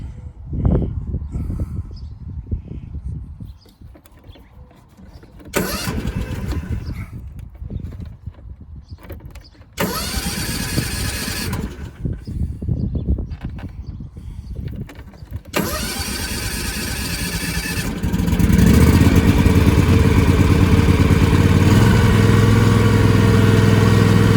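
A 2021 John Deere X350 riding mower, a little flooded, cranks in several separate attempts with pauses between before the engine catches and settles into a loud, steady idle close by.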